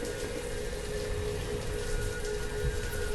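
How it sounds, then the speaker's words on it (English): Heavy rain pours steadily in the village-building game Banished, a dense, even hiss of falling water with no letup, loud and close throughout. "I can't hear a thing because the rain is so loud."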